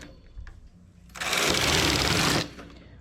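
A domestic knitting machine working a sleeve gives one steady mechanical whirring run of about a second, loud and close, set against quiet room noise.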